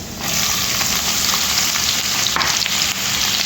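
Onions sizzle loudly in a pan with cumin seeds, mustard seeds, curry leaves and chilli, a dense continuous frying hiss up close with occasional stirring scrapes, no talking.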